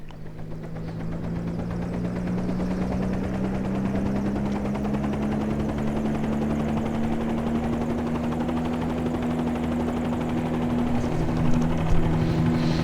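A Bell 47G helicopter in a flight simulator game, steady rotor drone with a low engine hum, continuous and fairly loud throughout, without talk.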